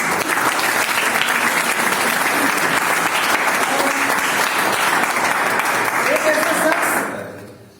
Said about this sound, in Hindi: भोजराज सर के लिए एक बार तालियां हो जाए जोरदार